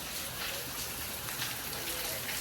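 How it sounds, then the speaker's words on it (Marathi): Monsoon rain pours steadily outside a home, a continuous hiss of drops on surfaces, fairly close and unbroken, with no one talking. "पाऊस चालू आहे"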